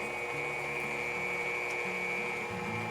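A stand mixer runs continuously while creaming Crisco shortening for a Kentucky stack cake, giving a steady, faint whirring motor hum with a shifting low drone and no talking.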